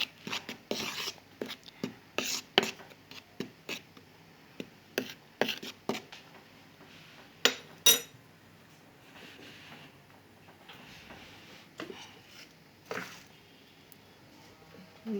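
Spoon or whisk scraping and tapping in a bowl while ingredients for a coconut rawani batter are mixed with a pinch of salt, a series of close, irregular clinks and scrapes with quiet gaps.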